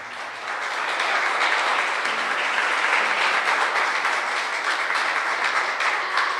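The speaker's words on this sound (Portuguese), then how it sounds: "Vamos aplaudir Jesus." Church congregation applauding, a dense, steady roar of many hands clapping that builds in quickly and holds for several seconds, fairly loud and filling the space.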